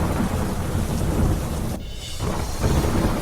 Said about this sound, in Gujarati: અમદાવાદમાં ભારે વરસાદ